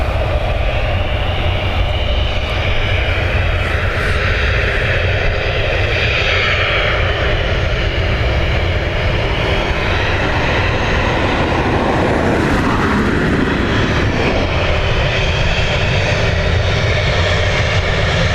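Jet engines of a Boeing Dreamliner airliner roar loudly and continuously at Dublin Airport, a broad rumbling drone that swells and shifts in tone as the aircraft moves on the runway.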